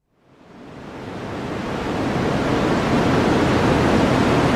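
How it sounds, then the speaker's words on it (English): White noise played throughout a courtroom during a sidebar swells in from silence to a steady, loud, broadband hiss that holds constant, with no voices. "Because in the sidebar, they play white noise."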